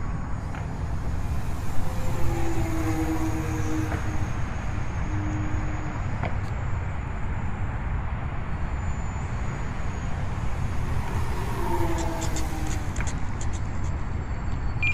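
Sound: T-28 Trojan RC model airplane flying passes

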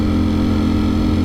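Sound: Ducati Streetfighter V4S motorcycle exhaust

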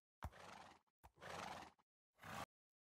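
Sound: horse neighing in video game Minecraft

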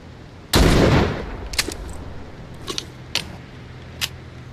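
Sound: shotgun firing in The Walking Dead video game

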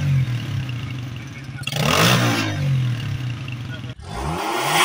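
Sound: car revving with loud modified aftermarket exhaust

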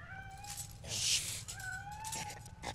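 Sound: cat meowing in a video game

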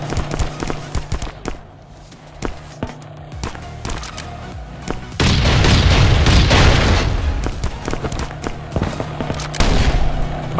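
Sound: shotgun fire in survival video game Last Day Rules Survival

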